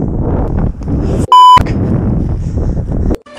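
A DJI FPV drone's lost-aircraft alarm gives one loud, piercing electronic beep tone lasting about a third of a second. Steady wind noise buffets the microphone before and after it, and a second short beep comes near the end.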